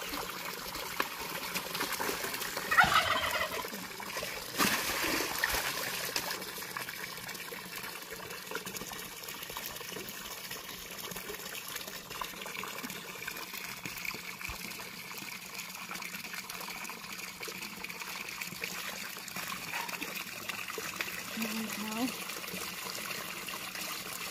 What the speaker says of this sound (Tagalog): liguan ko muna si pato guys para ano.